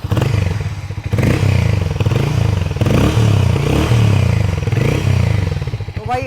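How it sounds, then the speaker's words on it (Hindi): A Harley-Davidson X440 motorcycle's exhaust note runs as a loud, close, steady engine drone that swells and eases with light revving for about six seconds. "तो भाई एक बार ना इस गाड़ी का आपको एग्जॉस्ट नोट सुनाता हूँ।"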